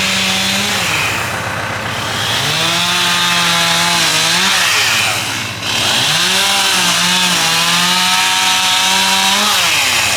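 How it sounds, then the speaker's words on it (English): Chainsaw cutting up storm-damaged tree limbs on a farm, a loud, close, continuous whine that dips and rises as the blade bogs in the wood and revs free again. "As you can hear the chainsaw."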